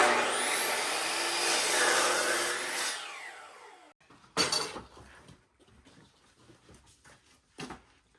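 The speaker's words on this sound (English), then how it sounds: "Just using the jigsaw to cut through the last little bit that I couldn't get through with the miter saw." A jigsaw cuts loudly through wood for about three seconds and then stops, leaving a quieter spell with a few scattered knocks and handling sounds.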